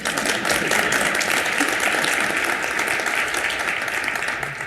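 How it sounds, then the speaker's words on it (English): Audience applause at a talk about state housing finance, a continuous dense roar of many hands clapping, loud and sustained throughout with no pauses. "Hold for applause."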